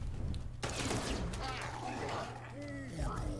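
A sharp burst of gunfire in the video game Miasma Chronicles cracks out, followed by synthetic effects and rising electronic tones, with a voice speaking over the mix.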